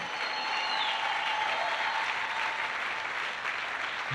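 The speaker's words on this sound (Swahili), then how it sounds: "Mpeni Yesu makofi mchana wa leo" Sunday church congregation keeps up continuous, even applause at moderate distance, a soft wash of many hands with faint cheering beneath, cut off by a sharp knock at the very end.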